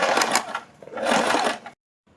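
Sewing machine stitching a folded hem on a kurti top: two close, loud bursts of rapid running stitches with a short pause between, then a sudden stop and near silence.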